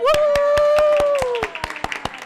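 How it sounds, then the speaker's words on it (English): A crowd at a school district board meeting claps in a steady rhythm while a voice whoops over the start, close and loud. "we were going to totally clap for you"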